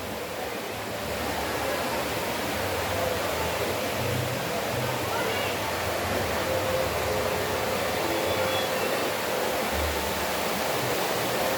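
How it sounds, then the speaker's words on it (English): A river rushes with loud, continuous broadband water noise at a steady level throughout, outdoors in western Antioquia, Colombia. "there is a river down here."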